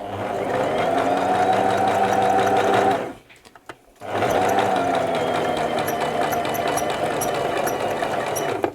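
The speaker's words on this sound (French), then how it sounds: "Et on va coudre jusqu'à coudre un petit peu sur l'ourlet." A domestic sewing machine runs steadily while stitching a pajama hem, a close, loud, continuous mechanical whir that stops briefly for about a second before resuming.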